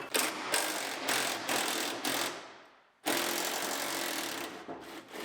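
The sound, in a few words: ratchet unbolting Mustang GT fuel tank strap bolts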